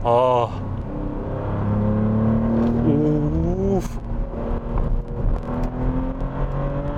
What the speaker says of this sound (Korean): 우리가 마세라티라는 브랜드에서 이제 기대하는 그런 배기 사운드가